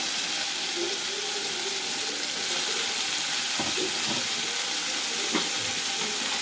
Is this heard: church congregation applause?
no